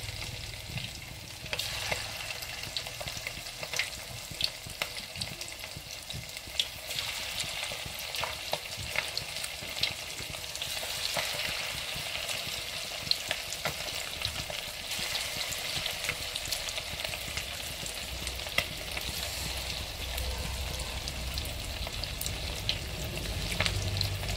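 Chicken pakoras deep fry in hot oil, a constant close crackle and sizzle with scattered sharper pops and occasional stirring scrapes, steady for the whole stretch without voices.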